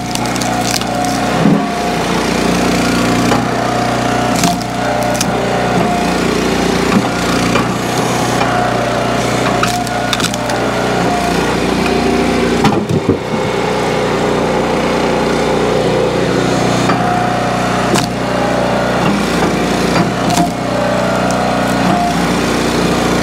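An Eastonmade Ultra log splitter's engine runs loud and steady while splitting ugly firewood, with periodic cracks and creaks of wood giving way over the constant drone.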